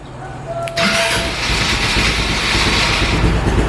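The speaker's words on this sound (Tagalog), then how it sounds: "So yan, maandar na yung ating motorsiklo." A Motorstar Easyride 150P motorcycle engine cranks briefly on push start and catches, then settles into a steady, loud idle close by.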